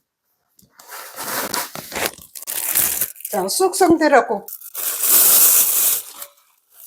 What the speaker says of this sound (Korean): 자, 비닐팩에 넣어볼게요.